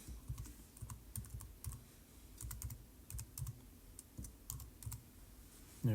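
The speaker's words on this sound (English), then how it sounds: "So all we need to do is hit clear and type it in" Quiet, steady typing on a computer keyboard, a fast irregular stream of soft close key taps with brief pauses and no one talking.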